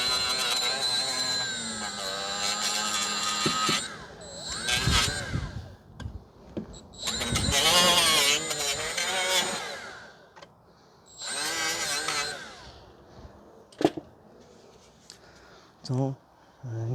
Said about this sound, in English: sand down here a little bit